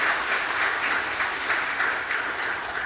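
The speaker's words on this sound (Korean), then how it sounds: "모든 분들께 우리 감사의 박수를 드리겠습니다." A church congregation gives a steady round of applause of thanks during a Sunday service. The dense clapping fills the room evenly, sounds moderately distant and runs without a break.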